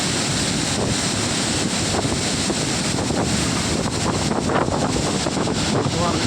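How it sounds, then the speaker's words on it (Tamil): Long waterfall at the Chittar dam in Tenkasi, a steady dense roar of rushing water heard up close and loud throughout, mixed with wind buffeting the microphone. "எவ்வளோ நீளமான அருவி பாருங்கள் எவ்வளோ நீளமான சித்தாறு அணைக்கட்டு அருவி"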